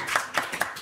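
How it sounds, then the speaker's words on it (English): A single person claps slowly at a book party, four sharp, distinct hand claps spaced evenly and fairly close, with quiet room tone between them. "I didn't realize until just now that there is a singular version of applause."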